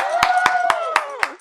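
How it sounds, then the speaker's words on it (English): Studio audience on a live talk show claps in slow, even rhythm, five crisp loud claps close by, while a person's sustained singing or speaking voice runs underneath. "Give her a hand clap."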